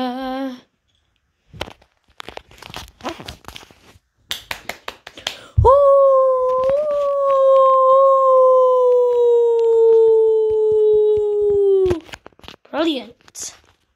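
A human voice imitates a dog with one long, steady, howl-like call lasting several seconds, set between scattered clicks and snaps.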